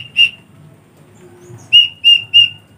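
A single sawangan angkrik cricket-call whistle is blown in short bursts: one sharp shrill chirp, a pause, then three quick piercing chirps close together, loud and near with no talk.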